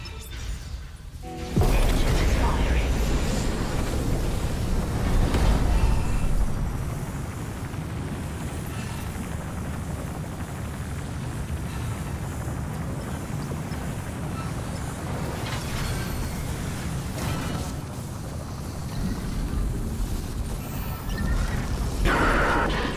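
Spaceship engines igniting in the Dead Space video game, a heavy rumbling roar that surges in early, swells, then settles into a sustained low mechanical drone with occasional clanks, and no talking.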